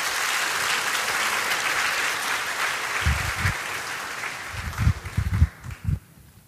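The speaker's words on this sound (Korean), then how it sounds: "박수 한번 해주시기 바랍니다" Church congregation applauding before a deacon's testimony at an Alpha course gathering, a steady crowd clapping throughout that thins into a few louder scattered claps near the end and then fades out.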